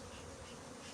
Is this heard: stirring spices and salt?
no